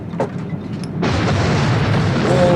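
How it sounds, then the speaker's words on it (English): A sudden loud blast from a space battle explosion in the 1979 film Moonraker erupts into a sustained roaring rumble that keeps building, with a thin whine appearing near the end. "Oh, that was a good explosion."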